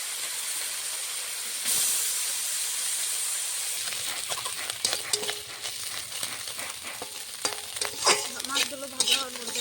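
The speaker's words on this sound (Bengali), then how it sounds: "হলুদ গুঁড়ো দিয়ে মেখে মাছটা ভেজে নেব" Oil sizzles and hisses steadily in a pan, with scattered crackles and spatters as turmeric- and salt-rubbed puti fish fry.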